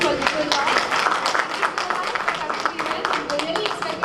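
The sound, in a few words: applause for the event photographer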